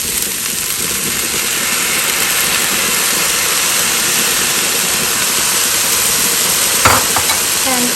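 Ingredients for an egg curry fry and get stirred in a pan with steady, even sizzling, a close and fairly loud hiss throughout, and a brief clatter near the end.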